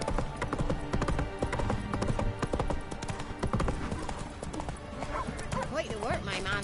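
Horse galloping in the video game The Witcher 3, rapid rhythmic clip-clop hoofbeats close and loud with a whinny, under game music and a voice talking.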